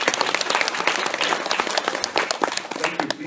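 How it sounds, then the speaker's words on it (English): Sustained applause from a conference audience, many hands clapping in a dense, steady patter that fills the room, close and loud with no talk over it. "Ladies and gentlemen, please an acknowledgement and applause for him for coming all the way."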